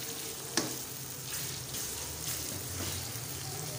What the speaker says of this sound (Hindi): अब इस कीमे को हम सही फुल ब्राउन करेंगे